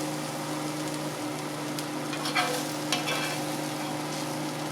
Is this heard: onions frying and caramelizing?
yes